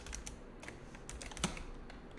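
Quick, light keystrokes tap on a computer keyboard in a short burst of clicks at close range, with one louder key hit near the end.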